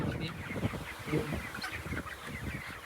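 Young chickens, about 23 days old, clucking and scratching together in a close, busy flock, a soft continuous murmur of overlapping calls.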